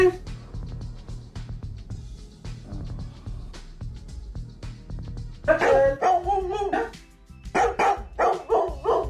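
Small dog barking in short, sharp bursts, close by, with grunts and sounds underneath.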